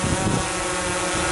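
Wind blusters outdoors at a cabin, a broad rushing roar buffeting the microphone, loud and close throughout the short stretch with no voices.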